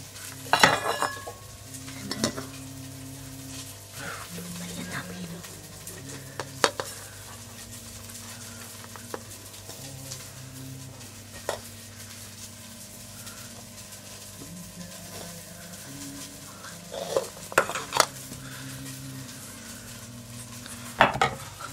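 A spoon stirs sugar in a metal pot while kiwi cooks, giving soft scraping and occasional clinks of utensil against the pan over a faint sizzle, moderately close and without talk.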